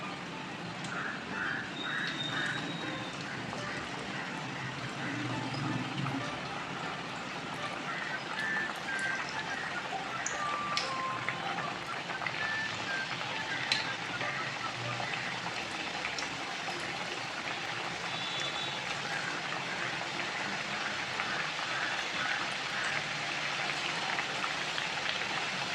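Masala thattai fry in hot oil over medium heat, a steady soft sizzle and crackle with scattered small pops continuing evenly throughout, fairly quiet.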